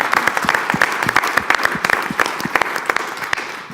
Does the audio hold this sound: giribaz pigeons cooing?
no